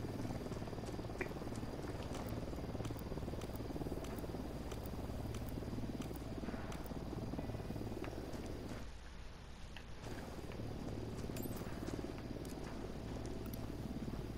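A surveillance drone in Ghost Recon Wildlands hovers with a steady, continuous whirring drone that fills the whole stretch, dipping briefly near the end before resuming, with no voices over it.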